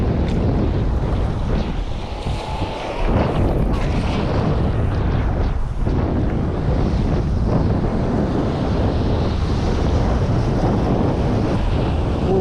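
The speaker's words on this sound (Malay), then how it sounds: "Tapi berangin ni kau tengok lah macam mana. Berangin." Strong wind buffets the microphone in loud, rumbling gusts while shrimp are caught with a net, with sloshing water underneath and no clear voices.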